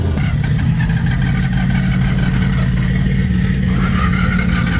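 A car engine runs hard at full throttle on a full pass, a loud, continuous mid-range roar with a rough, clattering edge that holds steady, close and with no pauses.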